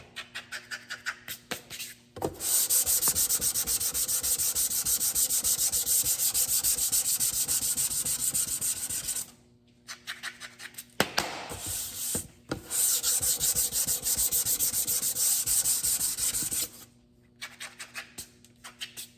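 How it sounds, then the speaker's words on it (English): Primer on a car body panel being block sanded with sandpaper: steady, close rasping strokes in two long runs separated by brief pauses, no talk. "it's hard to get a perfect panel when it keeps balling up on your sandpaper like that"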